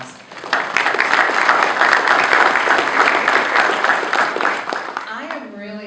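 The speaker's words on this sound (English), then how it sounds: "Give her a round of applause." An audience at an evening financial aid seminar breaks into a round of applause, dense steady clapping from many hands filling the room for several seconds before tapering off at the end.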